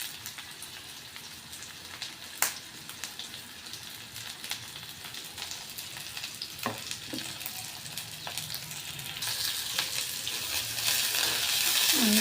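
Onion frying in a pan makes a soft, steady sizzle with faint crackles and a few clinks, the hiss growing louder toward the end.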